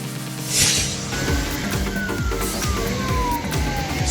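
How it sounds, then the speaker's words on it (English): A Serbian police car siren wails with a steady repeating up-and-down cycle, loud and close, over a low rumble of traffic and road noise. "Serbia Police Car."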